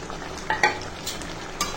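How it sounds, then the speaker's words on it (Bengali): A mustard and green chili paste is stirred into fried elephant foot yam in a pan. A few quick scraping strokes play over a faint, steady sizzle, close and without talk. "দিয়ে এখন সুন্দর করে মিশিয়ে নেব"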